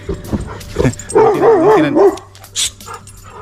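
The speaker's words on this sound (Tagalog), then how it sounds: "ito na naman to aso na to eh" A dog nearby gives a few short barks and a long, wavering whine, with no one talking.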